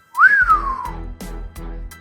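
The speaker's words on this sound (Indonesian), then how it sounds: "Pendekar 212 bersiul nyaring" A loud, shrill whistle rises and then falls in pitch at the start of an audio drama's action scene, followed by low thumping impacts beneath it.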